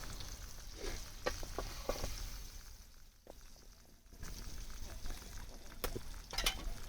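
River fish fry in hot oil in a kadhai, a continuous close sizzling hiss with scattered sharp crackles and pops, dipping briefly midway before resuming at steady strength.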